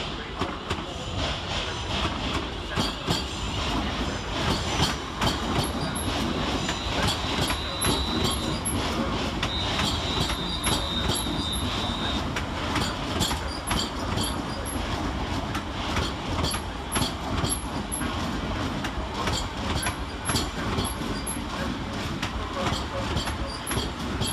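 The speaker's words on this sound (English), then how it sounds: "Arriving next into the station, terminated with a London Northwestern Railway service off Tring is 350-250 and 350-267" A London Northwestern Railway Class 350 electric multiple unit pulls into London Euston, loud and close, with continuous rolling rumble, clattering wheels and faint brief squeals as it arrives.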